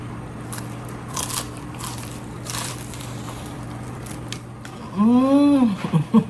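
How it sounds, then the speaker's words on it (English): A knife slices through a slab of crispy pork belly with crackling skin, giving loud close crunches and crackles that swell near the end over steady background hum. "So let's cut this pork belly crispy."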